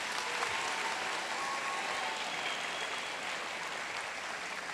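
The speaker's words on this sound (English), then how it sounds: "Let's give her one more round of applause." Sustained applause from an audience at a high school senior awards ceremony, steady and dense throughout, with no speech over it.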